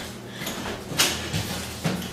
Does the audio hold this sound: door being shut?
yes